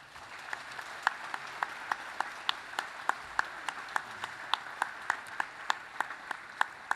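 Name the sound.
audience applause for constitutional assembly members' families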